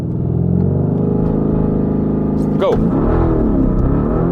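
A Lamborghini Urus SUV pulls away hard from a standstill on a private, off-street road, its engine a loud, continuous rumble that builds as it accelerates, with a voice shouting over it.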